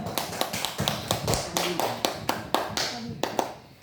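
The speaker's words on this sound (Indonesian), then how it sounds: "Tepuk tangan dulu dong." A small group at a school OSIS candidate debate claps unevenly for a few seconds, the claps sharp and close, forming brief scattered applause.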